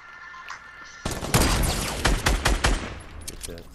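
Loud gunfire in a squads shooter game, with a sharp sniper rifle shot among several other shots in quick succession, all packed into a dense, noisy battle soundscape.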